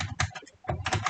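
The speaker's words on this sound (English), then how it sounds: "I'm going to type in some text" Quick clicking keystrokes on a computer keyboard as text is typed, close and crisp, in two short bursts with a brief pause between them.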